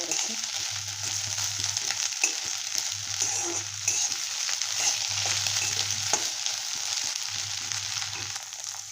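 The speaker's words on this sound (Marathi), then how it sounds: "कांदा हे जास्त भाजायचा नाही आहे थोडंसं कच्चच ठेवायचं भाजून घेते मी" Onion frying in a pan for fried rice made from leftover rice, a loud constant sizzle with occasional stirring scrapes and a low recurring hum, close up, no talking.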